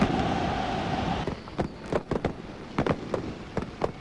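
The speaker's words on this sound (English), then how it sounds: "So the fireworks going off already." Fireworks bursting at a Chinese Super League football match, a run of sharp cracks and bangs spread irregularly over a few seconds after a steady crowd roar at the start.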